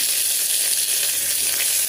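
Onion dropped into hot oil in a pressure cooker, a loud steady sizzle and hiss throughout, close and without talk.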